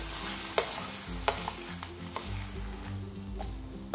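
Bangus (milkfish) cooking lightly in a pan gives a steady, close sizzle with bright clicks and taps of stirring utensils scattered through, and no voices.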